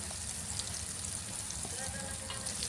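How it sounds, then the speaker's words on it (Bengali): Chicken roast pieces dropped into very hot oil in a pan, a steady loud sizzle and crackle of frying that runs throughout with no talk. "তেলটা গরম হয়ে গেলে, অনেক গরম হয়ে গেলে আমি মুরগির রোস্টগুলো দিয়ে দিচ্ছি"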